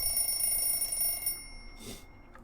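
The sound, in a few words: ringing sound in the video game Everlasting Summer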